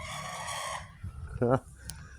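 A rooster crows near a cockfighting area in Pakse, Laos, in a long strained call, then a shorter crow follows with some clucking, fairly close, over low background noise.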